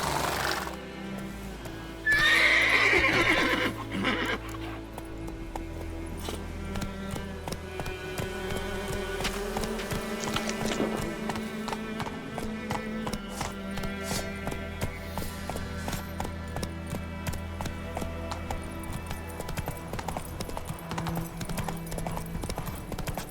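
Roach, a horse in The Witcher 3, gallops with rapid clip-clop hoofbeats, and a loud whinny comes near the start, all over steady game music.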